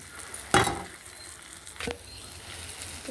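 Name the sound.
onions and curry leaves frying in tempering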